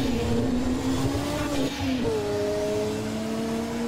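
A Zakspeed-run Ford race car accelerates hard, its engine note rising in a loud, continuous whine that dips briefly as it shifts and then climbs again, heard alone and close.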